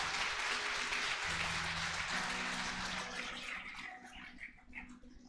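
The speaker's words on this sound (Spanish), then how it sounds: "¿Cuántos aplauden a Cristo?" A church congregation applauds during a sermon in a broad, steady wash of clapping that holds loud before thinning and fading out near the end.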